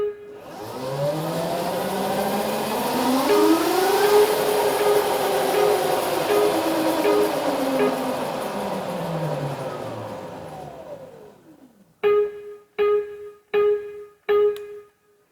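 A DNA Motors eCiti electric scooter's turn signal ticks four times, loud and evenly spaced, after a rising and falling synthetic driving tone fades out.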